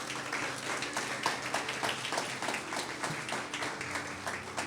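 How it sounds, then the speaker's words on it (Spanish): A church congregation at a Sunday service gives sustained applause for a birthday, with many hands clapping in a soft, distant, steady patter that fills the room. "Vamos a dar un fuerte aplauso."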